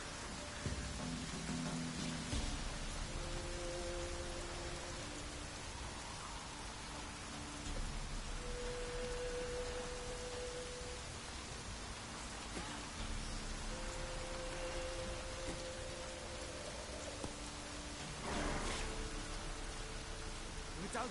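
Steady rain pours in The Witcher game, an even, quiet hiss of drops on surfaces lasting throughout, with faint tonal background sounds and no clear voices.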